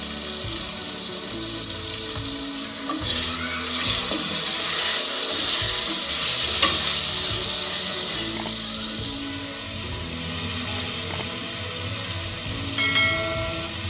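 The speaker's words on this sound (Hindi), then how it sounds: "अब मैं यहाँ पे स्पाइसेस ऐड करूँगी" Spices fry in hot oil in a pan with softened tomatoes for a chicken and turnip curry, a loud, dense sizzle that swells and then settles to a steadier hiss, heard up close without talk.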